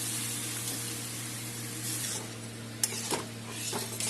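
Masala spices for dal fry and get stirred in a pan, a soft continuous sizzle under a steady hum, broken by a few sharp scraping strokes near the end.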